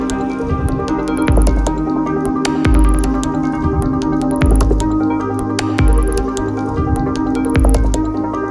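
Heavy water drops fall at a steady rhythm onto a treated tire during a water resistance test, each landing as a loud, close, wet squishy splat, roughly one every second or so.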